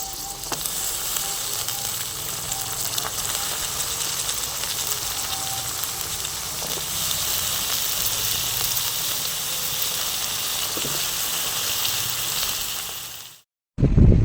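Brinjal pieces sizzle steadily in a pan with sautéed onions, a continuous close frying hiss with faint clinks, cutting off abruptly near the end.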